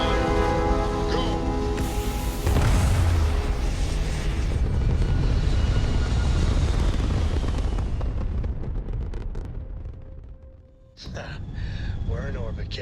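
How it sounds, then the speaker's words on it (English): A spaceship in the game Starfield lifts off with a loud, rising engine roar and heavy rumble that builds and then fades, followed by a brief burst of game sounds, with a voice speaking over the start. "Ready for takeoff in 3, 2, 1, go!"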